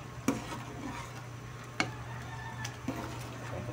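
Sopas soup being stirred in a cooking pot, with a few sharp spoon knocks against the pot's side spaced over a soft steady scraping and low background hum; no talking.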